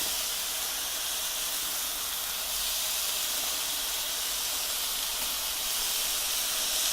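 Thick-cut bacon rendering its fat on a salvaged Weber Spirit grill converted to a griddle, a continuous broad hiss of sizzling that holds steady and grows slightly louder, close and unbroken, with no voices.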